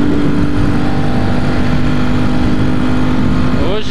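Motorcycle ride on a road toward the beach, with steady engine drone and wind rumble throughout, close and loud, and a brief rising whine near the end.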